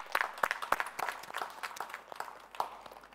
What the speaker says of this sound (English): Let us give a big clap to the meditation that we have done.